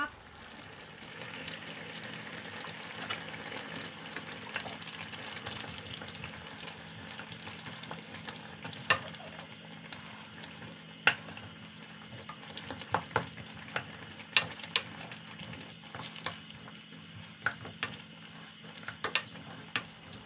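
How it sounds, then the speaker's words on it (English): A pot of lamb chop stew with cabbage, apple, carrots and added cream bubbles and sizzles steadily at a low, close level, with occasional sharp clinks and taps of utensils, no talk. "Bring it back to boiling."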